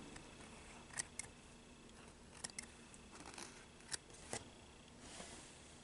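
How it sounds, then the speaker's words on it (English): Small scissors snipping away loose threads on a finished fabric placemat, a few quiet, sharp clips spaced over a faint hiss. "stop and trim away your threads"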